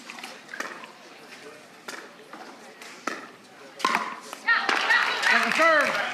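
Scattered claps build into fuller crowd applause and cheering at a pickleball match at the Selkirk Kansas City Open, rising toward the end while a commentator keeps talking over it.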